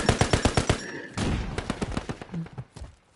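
Rapid automatic gunfire from a Call of Duty match, a tight string of loud close bursts that breaks off and returns as scattered shots and short volleys.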